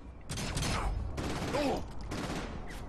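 Enemy gunfire in Saints Row 4 rattles in dense, loud bursts with a brief break, mixed with other game sounds.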